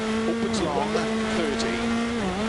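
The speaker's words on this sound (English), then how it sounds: "you hear that little cut in the acceleration, that's just every time I dab the brakes" A rally car engine in the Dirt Rally 2 video game drones steadily at high revs, with short dips and cut-outs in the tone each time the brakes are dabbed, heard up close.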